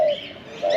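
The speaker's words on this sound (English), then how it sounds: "You're a cute bird." A pet bird gives soft, clear chirping calls up close, one at the start and another near the end, with a quieter gap between them and no talking.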